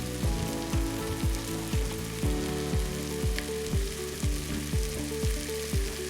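Carrot coconut curry soup ingredients sautéing in a pot, a loud steady sizzle broken by regular stirring scrapes about every half second, with no talking.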